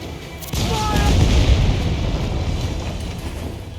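A deep booming cannon shot from a sailing warship in Assassin's Creed IV Black Flag, a heavy blast followed by a long rumbling roar during a naval battle, with crew shouting around it.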